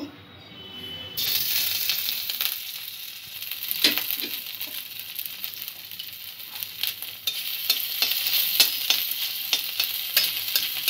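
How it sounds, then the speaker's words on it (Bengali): Ginger sizzling and frying in hot oil, a steady crackling hiss with a few sharp spoon scrapes and stirs against the pan. "অল্প একটু ভেজে নেব আদাটা"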